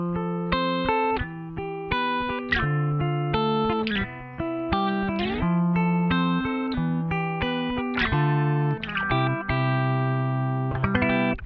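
Electric guitar picked gently through a BOSS CP-1X compressor pedal, a steady run of sustained, evenly leveled notes and chords with the soft attack lifted to full volume, playing alone without talk.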